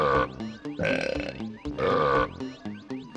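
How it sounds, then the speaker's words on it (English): Pitched burping sounds from the Donkey Kong 64 video game are played as a melody: a run of loud, rhythmic belch notes that rise and fall in quick succession without pause. "now we get to play the belch a bit."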